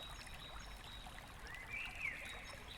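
Water trickles and flows down a creek outdoors, a faint, steady babbling stream with a bird chirping briefly over it.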